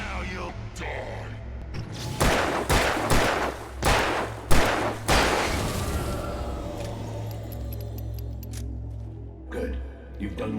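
Several loud gunshots ring out in Alan Wake Remastered, a rapid burst of sharp cracks clustered over a few seconds, followed by a lingering low ambient drone.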